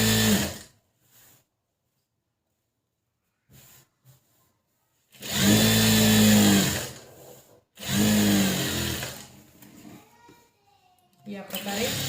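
A sewing machine stitches the back panel of a blouse in short steady bursts, running for a couple of seconds at a time with pauses between runs, close and fairly loud.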